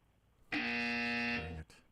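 A single loud game show buzzer blares for about a second, a flat electronic tone that cuts off sharply, heard on its own against near silence.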